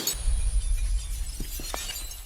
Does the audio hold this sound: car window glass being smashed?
yes